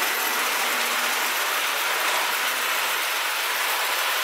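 A Lionel O gauge model train with lighted carriages runs on a home layout, producing a steady, close mechanical whirring and rumble that stays even throughout with no voices.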